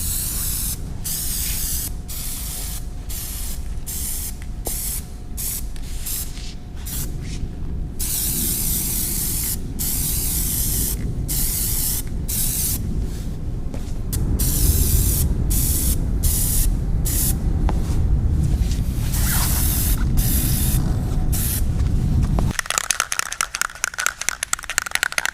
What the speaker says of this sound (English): let's go ahead and apply several light coats of this Plasti dip